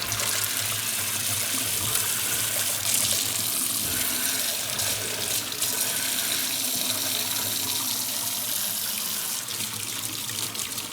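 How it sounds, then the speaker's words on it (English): Water gushes steadily from a tap in an old Arctic house after the pump is switched on, a loud, continuous close-up rush lasting throughout with no talking. "And there we have hot water."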